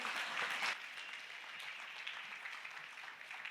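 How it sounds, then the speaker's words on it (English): Participants at a training session applaud together, a soft, even patter of many hands that swells briefly at the start and then continues steadily at a distance, fairly faint. "Let's clap it."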